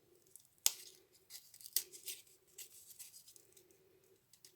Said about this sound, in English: we take our scissors again and make a tiny hole in the bottom of our ship